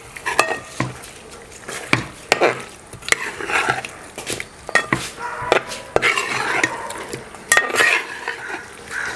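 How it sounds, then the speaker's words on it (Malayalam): Chicken biryani with green chilies and curry leaves is stirred hard in a metal pot, giving steady scraping broken by frequent sharp clanks of the spoon against the pot. The sounds are loud and close, with no voices. "നന്നായി ഇളക്കി"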